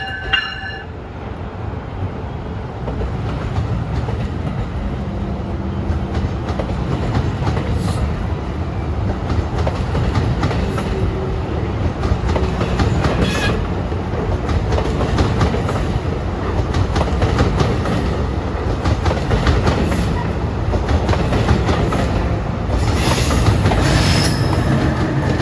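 NJ Transit train 6640 departs for New York on a sunny day, a steady rolling rumble with wheel clatter and occasional squeal holding loud and close throughout.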